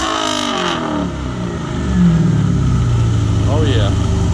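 A Dodge Challenger engine, a 5.7 or 392 SRT8, revs loudly and close by, rising into a sustained deep roar over a steady idle, while people talk alongside it.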